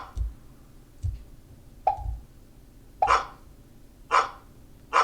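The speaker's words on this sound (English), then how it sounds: "if the dog is touching the ball, we want it to make a dog sound" A dog bark sound effect in a Scratch catch game repeats in short, sharp yaps, about six spaced roughly a second apart, growing louder and brighter toward the end.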